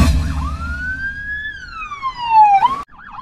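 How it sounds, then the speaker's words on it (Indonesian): An emergency siren wails at night in a residential street, its tone sweeping up and down in long clear rises and falls, loud and close, then cut short before resuming. "kok ada suara ambulan?"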